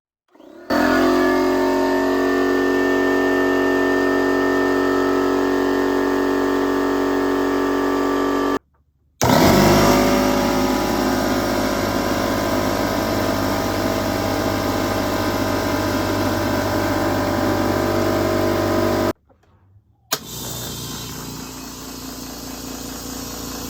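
A Metabo HPT The Tank air compressor runs with a steady motor drone and harmonic whine, stopping briefly twice before starting up again, loud and close with no talking.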